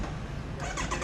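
A Kawasaki Z900 motorcycle engine revs hard at high RPM, a loud, steady, close roar that climbs in pitch toward the end with a few pulsing surges, with no other sound over it.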